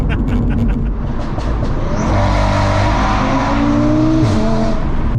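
Stage 3 hybrid turbo Audi RS3 accelerating hard, a loud continuous engine roar with rising harmonic sweeps through gear changes, heard close from inside the car.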